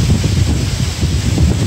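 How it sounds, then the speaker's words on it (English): Strong wind blowing at around 30 miles an hour buffets the microphone outdoors near trees, a loud continuous low rumbling roar with gusty pulses throughout and no talking. "it's just the wind is blowing like 30 miles an hour"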